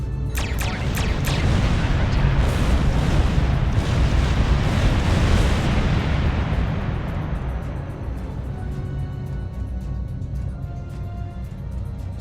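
Starship weapons and explosions in Star Trek Online: a few sharp shots open into a long, loud, rumbling blast that slowly fades into a lingering low roar.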